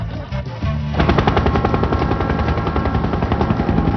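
A helicopter flying toward Machu Picchu gives off a loud, rapid rotor thump that rises sharply after a brief quieter start, then holds a dense, steady chopping drone.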